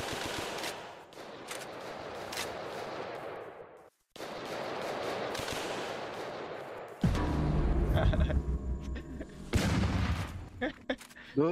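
Gunfire in a Portuguese-language action video game, with sharp shots and bursts that ring over a steady game-sound bed, then a louder, busier stretch of repeated cracks and booms near the end.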